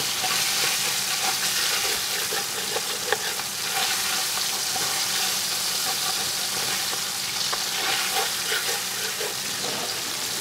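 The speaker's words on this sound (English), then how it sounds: "Just kind of scrape that around." Steady frying hiss from a pot of Cajun chicken étouffée, with soft scraping as a spoon works the browned bits loose from the bottom, continuous and fairly loud with faint scrapes scattered throughout.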